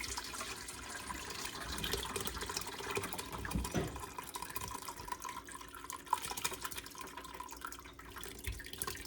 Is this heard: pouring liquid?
yes